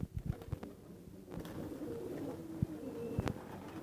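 Pigeons perched on a rail give soft, low cooing calls, a few close coos amid light rustling and knocks, with no talk.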